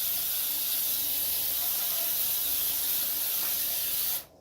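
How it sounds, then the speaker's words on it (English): Baking flour spray hisses steadily from an aerosol can onto a muffin pan in a kitchen, one continuous close burst lasting about four seconds before cutting off abruptly. "So I sprayed my muffin can just to not let this thing stick."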